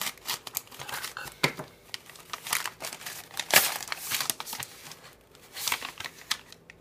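Parcel packaging from an online order shipped from England, torn open and crumpled by hand, giving close, busy crinkling and ripping bursts with sharp tearing spikes throughout, no talk.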